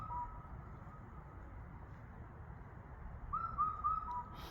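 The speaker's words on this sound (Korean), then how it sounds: "검은등 뻐꾸기 소리입니다." Faint whistled calls of a black-backed cuckoo, a short series of clear four-note phrases, rise over a low background hum near the end.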